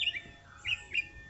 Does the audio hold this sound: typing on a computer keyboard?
no